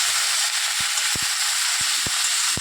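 Turmeric and spices frying in a pan with raw tomato make a loud, close, continuous sizzle, broken by several dull knocks and scrapes of the stirring spoon against the pan.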